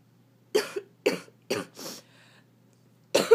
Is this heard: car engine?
no